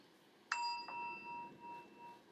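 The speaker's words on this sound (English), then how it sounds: "Ready for the bell? Let me hear the bell." A single bell struck once on a podcast, giving a sharp ding with a clear sustained ring that fades over about two seconds, followed by a faint second tap, close and alone with no talking.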